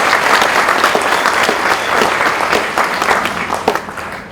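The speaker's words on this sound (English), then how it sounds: "Another round of applause, please." An audience at the opening ceremony of a 2020 human and wildlife trafficking event in Malawi claps loudly and continuously. The broad, even roar of many hands rises and settles without any talk over it.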